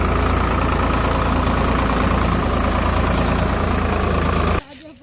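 A tractor engine runs steadily and loud, a heavy diesel chug that fills the clip before cutting out abruptly near the end, ready to drive a cutter through a two-bigha castor field.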